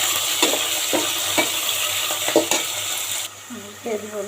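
Shrimp frying with browned onions in a pan give a loud sizzle broken by repeated spatula scrapes and stirs, which fade into quieter clinks and a brief murmur of voice at the close.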